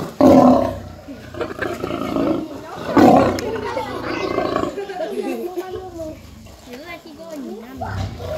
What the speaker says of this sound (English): remember the lion goes off dominance. So the louder you go, the louder they roar.